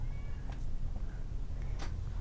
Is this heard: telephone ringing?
no